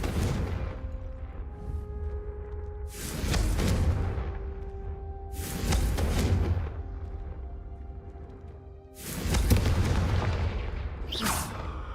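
Confringo fire spell blasts go off in Hogwarts Legacy, booming explosive bursts with a crackling tail. Four or five heavy hits arrive a few seconds apart over a rumbling game backdrop, loud and close.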